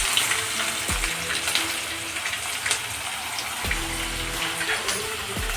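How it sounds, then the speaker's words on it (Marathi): Onion sizzling in hot oil with mustard seeds, cumin and curry leaves in a kadhai: a steady, hissing fry crackle, with a couple of low clunks of the pan or spoon. "गोल्डन होईपर्यंत कांदा फ्राय करायचा आहे"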